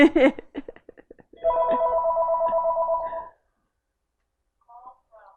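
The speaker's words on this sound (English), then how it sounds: "That is the phone." A telephone rings in a steady warbling burst lasting about two seconds, close and fairly loud, with brief talk just before it and faint electronic chirps afterward.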